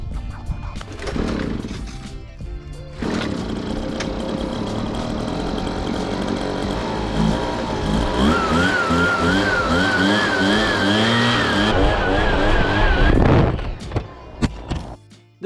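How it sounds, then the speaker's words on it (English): An old two-stroke leaf blower pulled from a trash pile runs steadily at close range, its buzzing engine drone holding for most of the time with a brief rev-up near the start, pushing through thick wet leaves. "The blower runs strong,"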